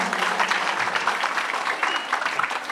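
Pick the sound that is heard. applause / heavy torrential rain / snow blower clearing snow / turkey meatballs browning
applause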